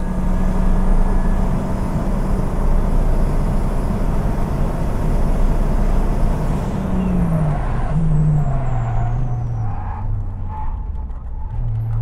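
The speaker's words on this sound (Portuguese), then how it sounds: "com um gol a 200 por hora, eu passo da placa de 150 metros e começo a frenagem" A VW Gol braking hard from 200 km/h on a track: steady loud engine and road roar, then the engine note drops in stepped downshifts as the car slows near the microphone, with no talk.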